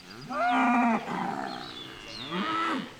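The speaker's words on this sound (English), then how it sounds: "These are a group of essentially Sim Angus cows." Simmental Red Angus cross cows on a farm mooing, two long low calls separated by a quieter bellow, fairly close and loud, no talking.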